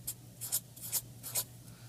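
Pen or marker writing down figures on paper or a board, several short scratchy strokes in quick bursts, close and fairly quiet over a low steady hum.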